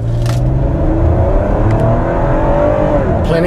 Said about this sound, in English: The V6 engine is smooth,